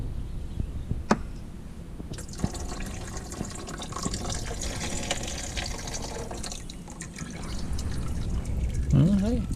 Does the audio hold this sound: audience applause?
no